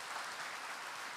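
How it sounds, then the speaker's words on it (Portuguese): A congregation applauds during a church service, a dense, steady wash of clapping from many hands throughout, with no voices standing out. "Se você crer, pode aplaudir para valer"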